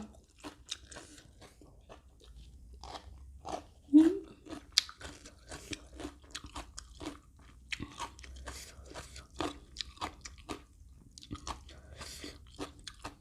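Close crunchy chewing and biting of spicy papaya salad with heaps of chili, steady irregular crunches through the whole stretch, with one louder bite partway in and faint background hum.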